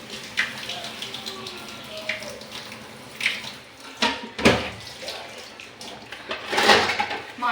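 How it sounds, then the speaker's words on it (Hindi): Dishes washed under a running hot-water tap in a home sink on a cold day, a splashing stream with intermittent clanks and louder gushes of water, fairly close. "और बर्तन धोऊंगी गर्म पानी में।"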